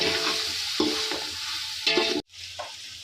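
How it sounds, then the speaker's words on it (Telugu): Cooked mutton stirred into fried masala for biryani, with a dense sizzle and repeated scraping strokes before a brief pause and a softer return. "మటన్ వేసుకుని బాగా కలుపుకోవాలి"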